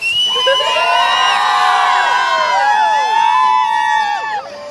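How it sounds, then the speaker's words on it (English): Crowd of striking secondary school teachers cheering outdoors, a loud burst of shouts, whoops and high-pitched yells that swell together and fade after several seconds. "I know we're going to get a bit of a cheer from everyone."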